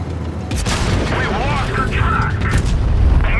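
A heavy boom from an enemy shell striking the front tracks of a Type 71 Mark 3 tank in a tank game, loud and close, with a rumbling metallic tail.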